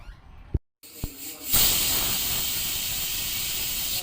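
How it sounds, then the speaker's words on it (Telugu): Spices such as cloves and star anise deep frying in hot oil for chicken fry. A couple of sharp clicks come first, then a loud sizzling hiss bursts in and holds steady to the end. "కొంచెం ఈ స్పైసెస్ని డీప్ ఫ్రై చేయాలి"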